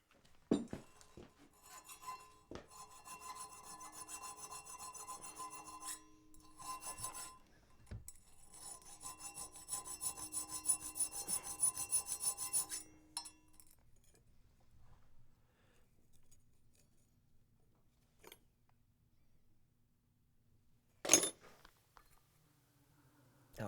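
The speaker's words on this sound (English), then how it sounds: "I'm going to file it instead." A hand file rasps against a wrought iron Suffolk latch in the shop, steady back-and-forth strokes in two long bursts, close and fairly crisp, followed by quieter handling noises and one sharp metallic knock.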